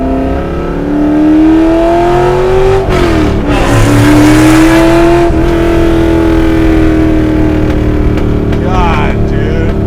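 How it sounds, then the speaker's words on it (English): A Shelby GT350 Mustang engine revs loudly and close up, its pitch climbing and falling across repeated pulls, with sharp bursts that fit backfires near the middle, while people talk excitedly over it. "and then the backfires to top it off."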